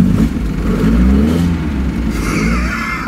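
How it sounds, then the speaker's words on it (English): A Chevrolet Cosworth Vega engine, a revvy little four-cylinder from the 1970s, fires up and revs steadily, a loud continuous close-up engine drone that rises in pitch toward the end. "there's that revvy little Cosworth engine"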